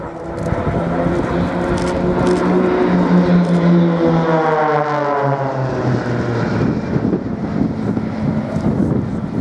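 An Extra aerobatic propeller plane sweeps past at an airshow, its engine rising in pitch and then sliding down as it passes close, loud against wind buffeting on the microphone.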